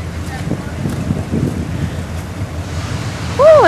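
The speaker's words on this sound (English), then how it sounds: "Woo, it is windy up here." Strong wind blows across an exposed high spot on a run, a steady, loud, rough rush buffeting the microphone throughout, ending with a short voiced exclamation.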